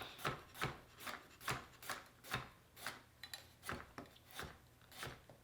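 A Nakiri kitchen knife slices through carrots on a cutting board, about a dozen crisp, evenly spaced chops in a steady rhythm, close and clear with no talking.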